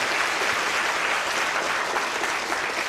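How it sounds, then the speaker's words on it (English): A lecture-hall audience gives a volunteer a round of applause, dense, steady clapping from a large crowd that holds at an even, loud level throughout. "a round of applause for our volunteer again"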